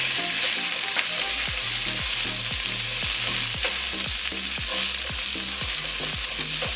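Long-sliced onions and green chillies fry in a pan for chicken peralan, giving a steady, loud sizzle, while a spatula stirs with regular scraping strokes roughly every half second, all close up with no talking.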